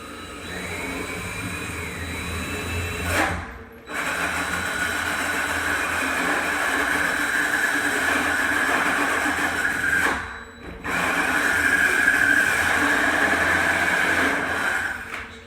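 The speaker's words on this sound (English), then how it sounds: "I'm going to show you how I drill this out." A power drill boring a hole in a wooden door for a pocket door handle whirs steadily for long stretches, briefly stopping twice before spinning up again, loud and close with a buzzing, grinding tone.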